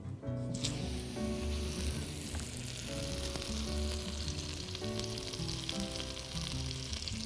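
Butter and minced garlic in oil sizzle loudly and steadily in a hot wok, with a sharp burst of hissing at the start and a continuous crackle after that. No one speaks.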